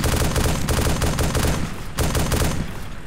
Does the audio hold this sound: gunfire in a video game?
yes